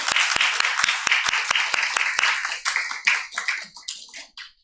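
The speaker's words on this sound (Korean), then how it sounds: "하나님께 다시 한번 영광의 박수 올려드리겠습니다." A church congregation at a Friday prayer service claps in praise, starting with sharp, evenly spaced unison claps that break into scattered, thinning applause and fade out.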